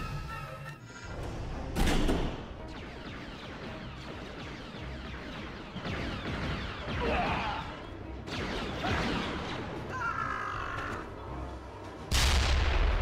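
Several booming blasts with crashes and thuds from Star Wars: The Force Unleashed on Wii burst out at intervals over a low rumbling background, with no talking.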